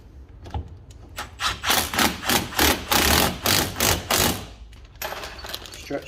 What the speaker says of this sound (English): We're going to torque all this to spec because we can.